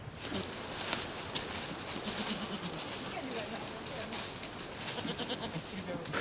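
Several dairy goats bleat in short, overlapping calls against a steady outdoor farm background, fairly close and moderately loud throughout.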